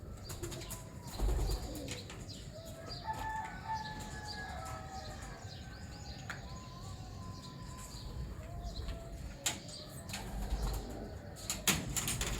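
Pigeons, including a Teddy jonsira cross pair, coo softly among fluttering birds and scattered chirps, a busy loft ambience with occasional wing flaps and clicks, fairly quiet and distant.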